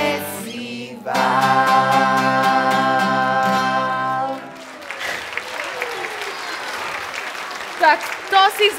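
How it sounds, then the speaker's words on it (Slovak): An audience at a live children's stage show claps in a dense, steady burst of applause that follows a stretch of music, while a voice speaks over the clapping near the end. "Tak to si zaslúži potlesk."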